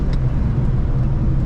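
A Ford Terminator Cobra runs at steady speed with a continuous, loud low engine and road rumble throughout, no voices.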